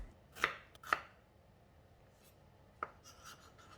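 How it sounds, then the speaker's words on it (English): Red onions sliced thin with a knife on a board for a Thai glass noodle salad: three sharp, close chops spaced apart, then a few softer scraping strokes, quiet otherwise. "Repeat with the red onions, thin slices."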